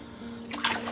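Water from a hose spraying onto a husky puppy during its first bath, a short burst of splashing wash that swells in the second half over a steady low hum.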